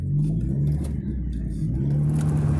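A 1980 VW Rabbit stick-shift pickup truck engine hums steadily at low revs while driving on the road, with wind buffeting over the top and no voices.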